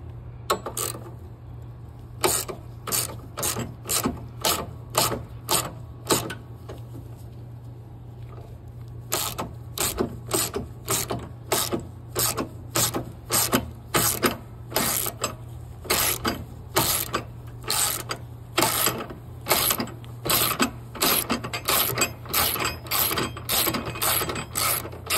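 A ratchet clicks in quick repeated bursts while undoing 10 mm bolts on the cooling fan of a 2012 Ford Escort, sharp close ratcheting in many runs with short pauses between.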